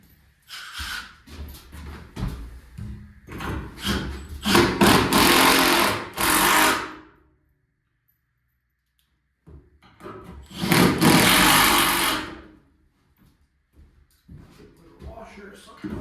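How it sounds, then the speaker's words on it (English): Drill driving 5/16 lag bolts into the wooden floor of an ice shack, two sustained loud whirring bursts with a pause between, plus shorter grinding and shuffling sounds and some talk nearby. "I'm just gonna put my 5/16 lag bolts into the floor"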